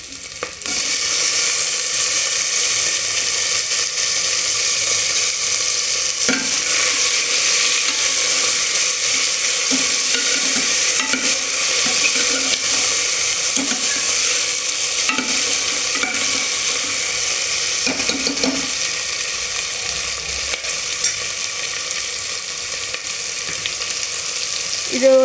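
Onions and tomatoes fry in oil in a pot for sambar, making a loud continuous sizzle with occasional stirring clatters that runs steadily for the whole stretch, with no talking.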